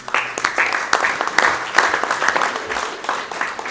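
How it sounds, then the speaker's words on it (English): A room at a county board meeting breaks into a round of applause, dense clapping from many hands at close range that holds steady throughout. "Give him a round of applause."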